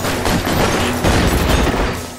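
Gunfire in the LA Noire video game, a dense burst of shots and booms that runs continuously through the short stretch at steady loudness, with no talking.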